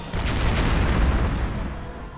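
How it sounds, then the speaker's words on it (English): Explosions in the Cupid Parasite video game give a loud, dense rumbling burst that fades toward the end, with no voices. "I hope the explosions aren't too loud."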